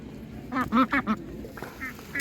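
Three-month-old meat ducks at a village market quack in a quick run of four close calls, then give a few fainter, scattered quacks over low background noise.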